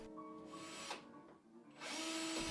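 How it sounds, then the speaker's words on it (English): A power drill bores holes through a kayak deck, its motor whining in a loud continuous buzz that rises and falls as the bit cuts, surging again toward the end. "I drill 4 holes in a line and then connect that with a utility knife"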